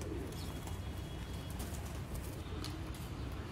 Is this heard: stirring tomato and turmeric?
no